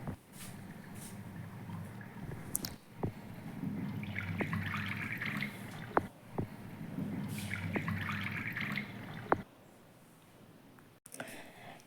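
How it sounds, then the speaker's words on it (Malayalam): Soaked urad dal and rice being washed in water for dosa batter, with repeated swishing and sloshing bursts separated by brief pauses and a few sharp clinks, close and fairly quiet. "അപ്പോൾ ഒന്ന് കഴുകി എടുക്കുകയാണ് ദോശ ഇടാൻ വേണ്ടിയിട്ട്."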